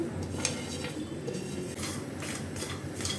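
Chopped jackfruit seeds are stirred and dry-roasted in a hot kadai over medium flame: a spatula clinks and scrapes against the metal in a steady close rattle, with a soft hiss underneath.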